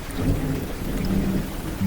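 Steady heavy rain pours down with low rumbling thunder rolling underneath, close and continuous with no voices.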